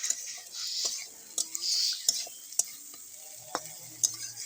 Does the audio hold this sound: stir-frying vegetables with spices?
yes